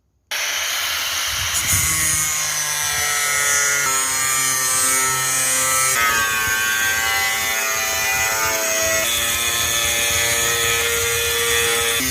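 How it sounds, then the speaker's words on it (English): Power tool cutting a rebate into aluminium sheet for a camping table build, a loud continuous whining grind with shifting pitch lasting several seconds, no voices. "I can cut a slight rebate into the aluminium in order to make it easier to bend it over"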